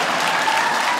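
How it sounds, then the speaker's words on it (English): Steady audience applause from a comedy show crowd, dense and even throughout with no break. "Clap for him too."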